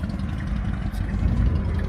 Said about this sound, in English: When you hear that exhaust, you know it's running.